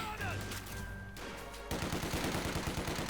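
Rifle squads exchange fire in the real-time strategy game Company of Heroes 2. After a quieter first stretch, a burst of rapid, overlapping gunshots breaks out and continues as dense, loud volleys to the end.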